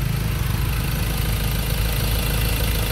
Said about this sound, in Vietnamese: Đấy, máy này. Máy nổ im đét và khô rét luôn.